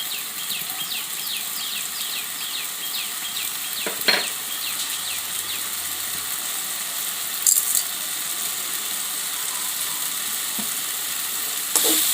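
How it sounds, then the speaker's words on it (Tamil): Tomatoes frying in a pan with turmeric and salt for a pepper chicken curry, a steady close sizzle with occasional clinks of the stirring spoon against the pan, birds chirping faintly in the background. "இது நல்லா வதக்கிட்டே இருங்க தக்காளி இன்னும் நல்லா வதங்கட்டும்"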